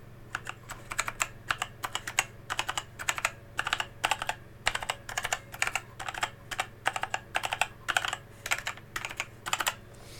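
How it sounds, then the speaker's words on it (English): Fast bursts of clicky key presses on a Genesis Thor 100 RGB mechanical keypad, typed in quick runs with short pauses between, close and crisp against a quiet room hum. "This is a QWERT keyboard."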